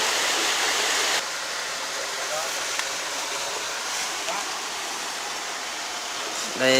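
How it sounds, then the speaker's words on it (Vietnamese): A mountain stream and waterfall in a rocky gorge in Tuyên Quang pour steadily as a dense, loud, continuous rush of water, with a slight drop in level after the first second. "tôi đang ngồi ở trong cái khe của núi, cạnh bên suối, cạnh bên thác của Đát Tuyên Quang"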